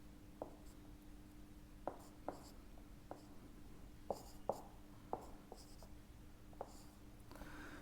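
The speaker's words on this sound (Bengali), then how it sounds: "দেখো একটা আঁকছি।" Pen or pencil drawing a triangle on paper during a school geometry lesson, a series of short scratchy strokes at uneven intervals, close and fairly quiet over a low steady hum.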